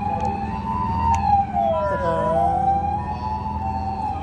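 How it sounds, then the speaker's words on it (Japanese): An ambulance siren wails steadily in Hamamatsu, Japan, its pitch bending downward as it passes close by, with traffic rumbling underneath. "今救急車が来たのでやり過ごします。"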